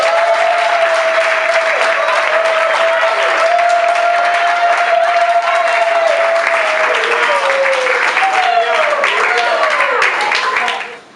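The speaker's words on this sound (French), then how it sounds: "je vais demander à l'assistance de bien vouloir applaudir Papa Eric." Sustained audience applause at a wedding ceremony, a loud, dense crowd of hands clapping continuously with a voice speaking over it before the clapping cuts off at the end.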